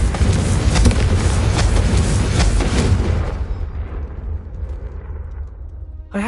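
A Confringo fire spell explodes in the video game Hogwarts Legacy, a loud sustained broadband blast with crackling bursts that rumbles for about three seconds before fading into a low tail.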